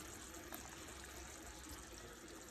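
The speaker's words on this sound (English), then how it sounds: "I'm going to take some of the water that the ravioli was boiling in, and I'm going to put it in this mixture" Hot ravioli cooking water poured from a pot into a spinach mixture, a soft steady trickling splash lasting a couple of seconds, faint and close, with no speech.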